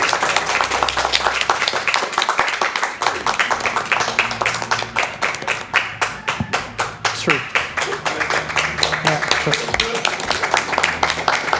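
People clapping during a Super Metroid map randomizer race stream, a fast dense run of sharp claps, loud and close, with talking over it.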